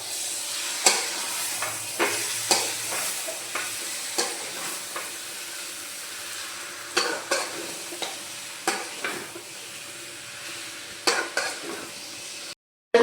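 Chicken masala frying in a pan as a utensil stirs it, with soft sizzling broken by a series of sharp scraping strokes at irregular intervals, close and fairly quiet.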